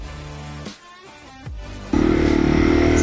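A Yamaha TW200 dual-sport motorcycle on a dirt trail, engine note dropping and rising through a shift before a loud, steady droning pull close to the mic.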